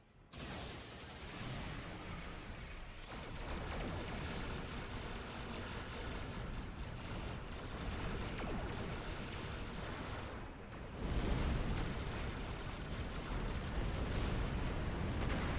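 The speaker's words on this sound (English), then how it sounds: "They're launching protomatter torpedoes." Protomatter torpedo explosions boom during a space battle in the video game Star Trek Online, a dense, continuous roar of blasts that swells louder near the end.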